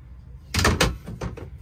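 A cabin door aboard a 29-foot Bayfield sailboat slides and knocks shut, a close wooden rattle and thump followed by a couple of lighter clacks over quiet background.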